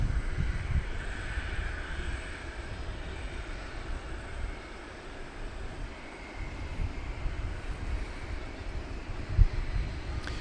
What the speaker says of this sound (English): Turkish flight 192 is bound for Istanbul. 7879 Dreamliner.